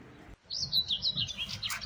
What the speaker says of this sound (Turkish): Kuş sesleri ne güzel cıvıl cıvıl.